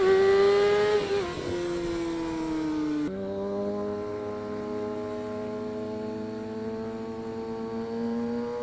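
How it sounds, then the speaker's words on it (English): Motorcycle engines revving hard on a highway as riders pull wheelies, a loud, close, sustained whine that climbs and drops in pitch, then shifts to a second steady engine tone. "The man got angry on riders because they are doing wheelies on highways."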